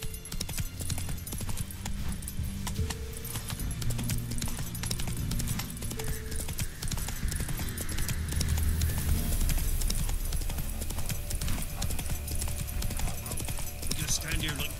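In The Witcher 3 video game, a horse gallops with rapid, rhythmic hoofbeats running throughout, mixed with game music and a voice talking over it.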